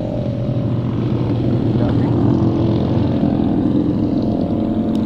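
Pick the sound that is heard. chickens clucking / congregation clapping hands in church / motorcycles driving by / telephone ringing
motorcycles driving by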